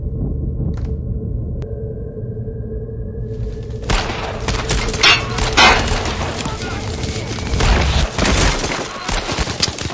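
Heavy gunfire and explosions from the World War II shooter Brothers In Arms: Road to Hill 30, a tense near-silent lead-in breaking at four seconds into dense, continuous bursts of shots and booms that stay loud to the end.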